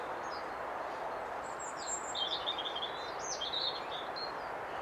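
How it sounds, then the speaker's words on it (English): Springtime birdsong drifts in from a distance, several birds chirping and trilling on and off over a steady outdoor hiss, faint and unaccompanied by any voices. "the birds are already out singing for spring"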